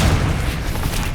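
A deep booming blast from the Confringo explosive spell in Hogwarts Legacy, a loud low rumble that fills the whole short moment with no voice over it.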